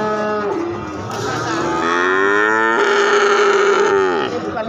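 A calf or young breeding cow at a busy morning cattle market in Gorang Gareng, Magetan, gives one long, loud, close moo that rises and falls in pitch.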